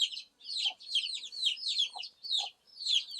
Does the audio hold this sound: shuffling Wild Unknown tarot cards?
no